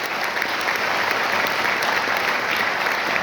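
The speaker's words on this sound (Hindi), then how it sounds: "एक बार ताली चाहिए।" Audience applause, a steady dense clapping from a crowd at a talk, even and sustained throughout with no pauses.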